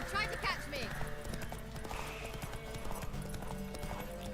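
A horse in a video game clip-clops steadily under a busy mix of music and game noise, with a brief whinny near the start and someone speaking Spanish over it.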